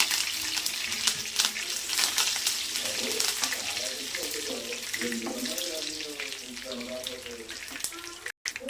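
Curry leaves dropped into hot oil for a Telugu tempering crackle and sizzle loudly, a dense steady spatter with bursts of popping, while a voice talks over the frying.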